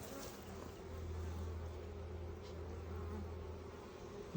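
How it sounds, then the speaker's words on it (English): Honeybees buzz over a frame lifted from a hive during a first hive inspection, a soft steady drone that holds low and continuous for a few seconds with no talking. "Wow, that has more bees on it."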